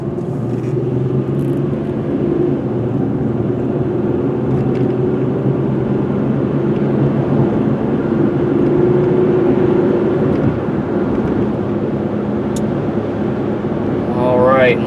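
A 2003 Chevy Malibu sedan cruises at about 55 mph, with a steady low road and engine rumble filling the cabin throughout as someone talks over it.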